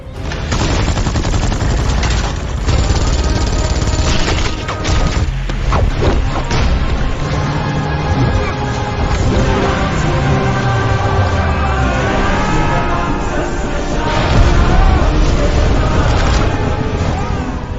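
A car falls and explodes in the 2024 Indian action film Fighter. Loud, dense crashing and booming blasts run through the whole stretch, layered with swelling dramatic score, and a heavier burst lands near the end.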